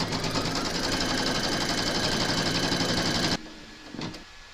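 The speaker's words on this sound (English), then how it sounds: "Pop your hoop into your machine and stitch round number 2 to secure it." An embroidery machine stitches a snowflake in-the-hoop design through batting, with a loud, fast, even mechanical whir and rhythmic needle pulse. The stitching stops abruptly, leaving a faint click after it.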